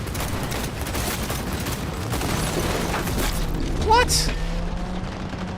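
Rapid bursts of gunfire and booming shots in a Cyberpunk 2077 firefight, loud and dense throughout with a rising whoosh near the end, while a player talks over it.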